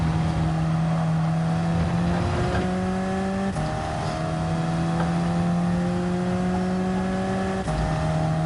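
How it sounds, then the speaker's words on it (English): A race car engine in a rally-style racing video game drones steadily at high revs throughout, with brief gear-shift dips and no talk over it. "Driving the car completely by feel."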